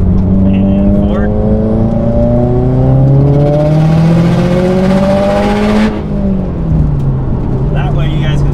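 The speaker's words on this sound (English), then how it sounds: "a little quick third gear pull" A tuned Subaru WRX with an FP turbo pulls hard in third gear, the engine note rising steadily and loud for several seconds, then dropping sharply as the throttle lifts and revs fall away.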